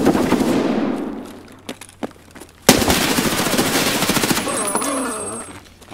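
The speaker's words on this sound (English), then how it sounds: "he dumps an entire 30-round mag into a wall" A full 30-round magazine of automatic rifle fire in Escape from Tarkov, sprayed into a wall in a tight hallway: a loud, rapid, sustained burst of gunshots that rattles on for several seconds before tapering off with echoing clatter.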